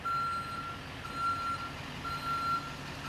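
Fire department pumping apparatus backing up, its reversing alarm sounding three steady repeated beeps over a low idling engine rumble, moderately loud and continuous.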